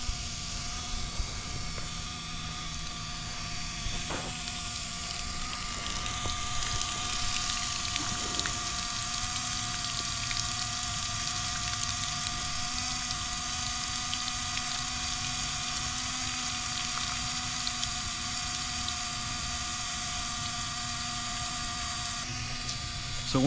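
Water running steadily while a Graco Magnum X5 paint sprayer filter is rinsed clean: a constant close hiss and splash of flowing water with a faint mechanical hum, no talk, lasting over twenty seconds.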